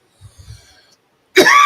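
A single loud, close cough bursts out abruptly after a few soft, faint sounds and a moment of near silence.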